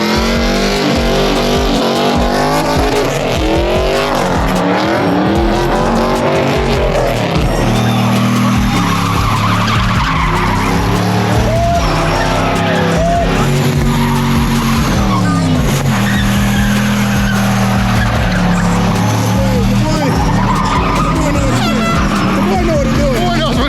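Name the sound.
LS Skyline drag race, cars launching with tire squeal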